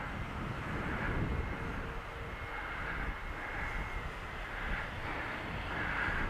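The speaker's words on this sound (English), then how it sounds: "Nice slow and steady flight in acro at the moment." An AtomRC Beluga RC airplane in slow, steady flight at about half throttle, its electric motor and propeller giving a continuous droning whine with gentle rises and falls, moderately distant, with no voices.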